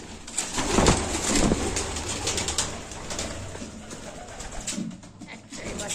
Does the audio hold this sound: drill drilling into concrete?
no